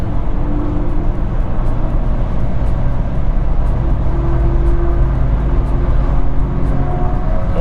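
A 2018 VW Touran minivan engine drones steadily and loudly from inside, with continuous road noise and a faintly rising tone as it accelerates to overtake a truck, reaching about 120 km/h.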